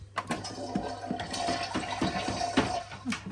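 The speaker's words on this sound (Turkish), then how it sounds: "Sifona da basmayı unutmayalım." A toilet flushes in a Barbie dollhouse play scene, a steady rushing and gurgling of water that runs close and fairly loud throughout, with no voices over it.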